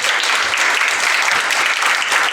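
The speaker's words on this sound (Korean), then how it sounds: "큰 박수로 보내드리겠습니다" An audience at a Jeonnam youth history research contest gives a warm round of applause to send off a presenting student team. The clapping is dense, sustained and even for the whole stretch, with no talk over it.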